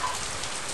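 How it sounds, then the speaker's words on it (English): Heavy rain pours down steadily outdoors in Oklahoma or Arkansas, a dense continuous hiss with no other sounds, moderately loud for the whole short stretch. "and it is pouring down rain."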